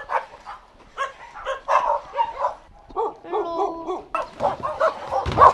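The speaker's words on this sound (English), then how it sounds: "There are 300 dogs." Many dogs bark and yip at a dog shelter housing about 300 dogs, a busy overlapping chorus of barks, yelps and whimpers close by, continuing without pause.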